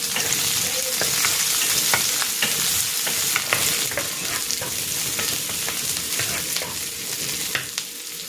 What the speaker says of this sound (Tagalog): Magigisa na ako ng bawang. At ng sibuyas.